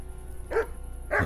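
Two short, fairly quiet dog barks from a village dog in the medieval game Kingdom Come: Deliverance, spaced about half a second apart over faint background ambience.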